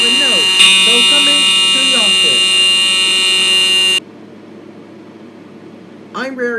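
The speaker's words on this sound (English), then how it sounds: "I'm very sorry the fire alarm was too loud and I pulled it" A school fire alarm that was pulled blares as a loud, continuous electronic buzz for about four seconds, then cuts off abruptly, leaving a quieter room where a voice briefly rises at the end.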